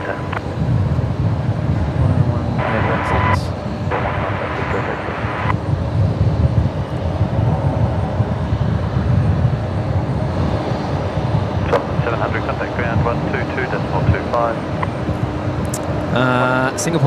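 A Singapore Airlines jet rolls for takeoff at Brisbane Airport, a steady broad engine roar filling the whole stretch, with bursts of talk and radio chatter over it.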